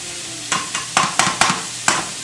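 A sirloin patty with Worcestershire sizzles on a hot griddle during spin cooking, a constant frying hiss broken by six or seven sharp scraping, stirring strokes of a spatula in irregular rhythm, close and fairly loud.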